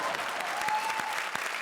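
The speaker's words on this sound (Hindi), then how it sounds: "जोरदार तालियां।" Studio audience applause on a comedy show, a brief dense burst of clapping with scattered louder claps, steady throughout.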